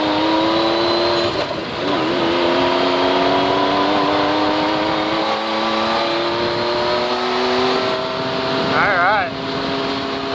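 A car accelerates hard to overtake on a dusty mountain road, its engine note climbing steadily through the revs with a gear change, loud and close, while a voice talks over it.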